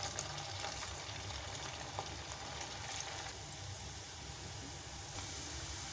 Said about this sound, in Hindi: तेल गरम हो गया है। अब मैं पोटैटो स्टिक डालती जाऊँगी इसके अंदर।